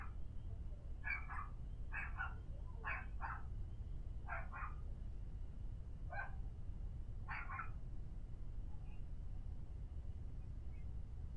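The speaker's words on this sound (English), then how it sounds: "She let the dogs out and they immediately started barking outside" Dogs bark outside in short repeated bursts of two or three, heard at a distance through a room with a constant low rumble, about six bark clusters over several seconds.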